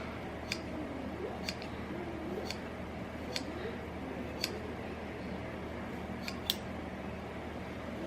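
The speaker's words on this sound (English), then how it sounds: "And then I just cut all the ends like this." Scissors snip through the ends of cotton macrame rope cords, a handful of short, crisp cuts spaced irregularly, close and fairly quiet against a soft room hum.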